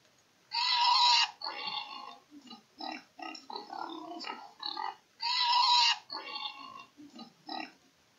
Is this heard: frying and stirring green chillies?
no